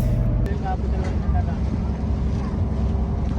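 Sri Lankan passenger boat heading out to sea for dolphin watching, its engine a continuous low drone mixed with wind buffeting, heard from on board with faint voices in the background.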